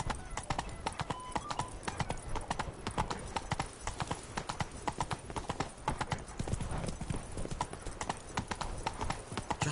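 Roach the horse trots steadily in The Witcher 3, a continuous close clip-clop of hooves with a brief whinny, and a voice speaks over it.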